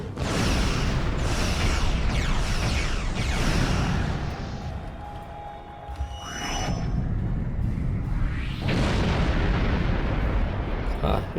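Several heavy booming blasts in quick succession with rushing sweeps, then a lull and another swelling roar of explosions, from a space battle in Star Trek Online.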